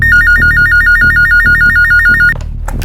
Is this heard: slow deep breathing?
no